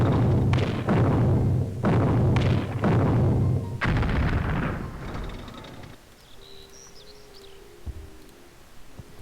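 Artillery bombardment in the strategy game Civilization III, set in World War II: four heavy booms land in a steady rhythm, each rolling off in a rumble, before fading into a quiet backdrop of faint chirping.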